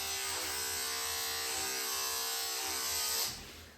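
An electric dog grooming clipper buzzes steadily at close range while trimming a doodle's coat, a continuous high whine that cuts off near the end.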